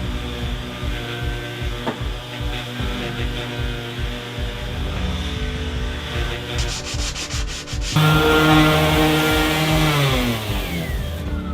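Power sanding during a van renovation, a loud rough rasping drone that runs continuously and grows louder and harsher partway through, close up with no talking.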